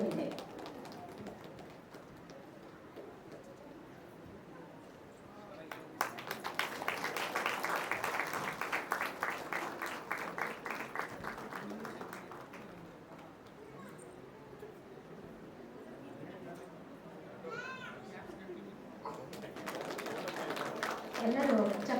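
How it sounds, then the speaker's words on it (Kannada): An audience applauds at a stage play about the life of Dr. B. R. Ambedkar. A burst of dense clapping swells in the middle and fades, with voices and crowd murmur before and after. "ಎಲ್ಲರೂ ಚಪ್ಪಾಳೆ ತಟ್ಟಿ ಪ್ರೋತ್ಸಾಹಿಸಬೇಕು"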